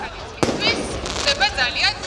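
Fireworks over Tbilisi on New Year's Eve, one sharp close bang near the start followed by distant crackling pops beneath steady talking.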